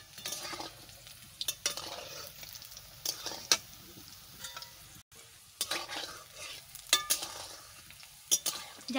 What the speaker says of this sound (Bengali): এদিকে আবার নাড়াতে থাকতে হবে, একটু লাল লাল হলেই আমি নামাই দেব